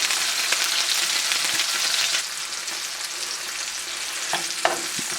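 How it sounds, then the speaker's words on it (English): Pieces of ham fry in bacon fat with a dense, crackling sizzle that eases partway through, with a few sharp pops and clinks near the end, close up and with no voices. "add your pieces of ham to this bacon fat and let them brown on both sides a little bit"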